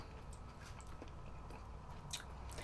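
Close, quiet chewing and biting on a piece of roast apple dipped in gravy, with soft wet crunches and squishy mouth sounds repeating unevenly, no voices.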